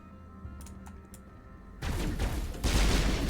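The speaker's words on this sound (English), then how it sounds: "Ooh, this pistol is nice. The triple shots." Pistol triple-shot gunfire in the Mass Effect 1 video game. After a quiet start with a few faint ticks, loud dense bursts of shots and impacts erupt and keep going, getting louder near the end.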